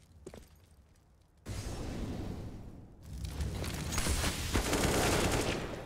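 AK rifle fire in the game CS:GO on the Mirage map: a brief quiet lull, then dense, rapid bursts of automatic gunfire that build louder and more continuous toward the end.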